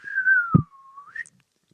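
A voice imitates a slide whistle, gliding down in a long whistled tone, then rising again at the end, with a short thump in the middle and a brief quiet tail.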